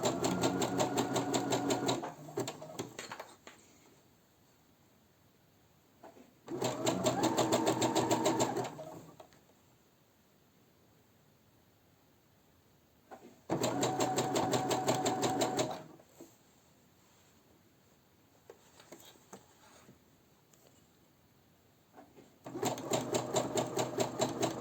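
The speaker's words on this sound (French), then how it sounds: "Je couds uniquement sur la bande noire, hein, surtout pas sur le picot." A sewing machine stitches picot elastic onto a bra band, running in four close, steady bursts of fast mechanical whirring, each lasting a few seconds and separated by quiet pauses.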